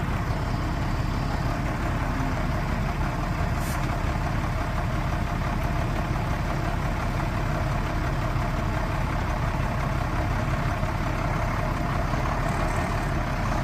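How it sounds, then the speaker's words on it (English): A 1994 International S2500 truck engine idles steadily with a deep, even rumble that holds loud and close for the whole stretch, with no talking. "Engine sounds fantastic."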